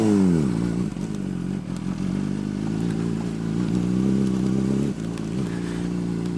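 Motorcycle ridden along a road toward Helltown, engine droning close and loud with small shifts in pitch as the rider eases off and on the throttle.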